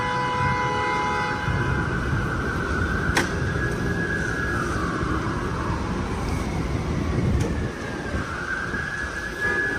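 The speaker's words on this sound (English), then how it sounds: "I hear sirens." Emergency sirens in a played news recording wail in long rising and falling sweeps over steady street and traffic noise, continuing throughout.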